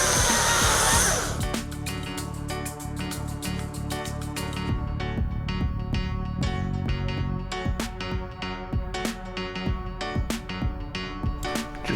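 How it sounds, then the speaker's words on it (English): A chainsaw carves halvings into timber posts during a garden renovation. The engine holds a steady, buzzing whine with rapid harmonic flutter, easing and surging as it bites into the wood. "Just halvings carved with a chainsaw"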